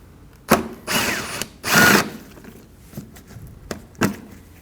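Power driver with a T30 bit backing out a Torx screw from the inner fender liner of a 2014-2023 Ford Transit Connect, heard as two short whirring bursts separated by clicks and faint handling noises, fairly close.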